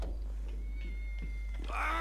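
A cat in Grand Theft Auto 5 meows once near the end, a clear rising call that stands out over a low, steady game background hum.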